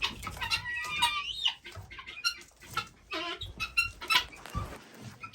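Chickens and guinea fowl on a homestead cluck and chatter in irregular bursts, with a few sharper calls over a low, busy background, moderately close and without talk.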